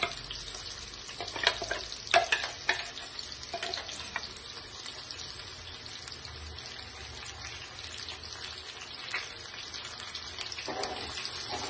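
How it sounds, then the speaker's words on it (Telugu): Ivy gourd masala curry frying in a pan, a continuous hiss and crackle with occasional stirring scrapes and clatter, close and moderately loud, no talking. "వేసుకొని మంచిగా రెడ్ కలర్ వచ్చే వరకు ఫ్రై చేసుకోవాలండి"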